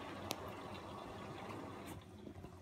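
A Bosch WFF2000 washing machine fills with water in a steady, faint rushing flow, unbroken throughout with a couple of small splashy ticks.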